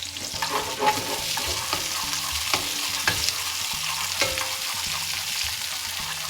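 Spices and ingredients for a restaurant-style chicken jalfrezi toasting in a hot pan, a steady close sizzle broken by regular scrapes and knocks of a stirring utensil, with no talk.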